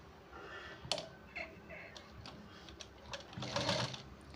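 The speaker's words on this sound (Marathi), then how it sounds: "आता इथे आपल्याला शिलाई द्यायची आहे" A sewing machine runs in short, quiet bursts of ticking stitches while a blouse shoulder seam is sewn, with faint clicks and soft background noise between runs.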